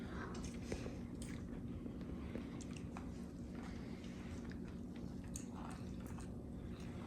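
Soft, close chewing and biting while eating Pakistani biryani, quiet and steady, with faint rustles and light clicks throughout.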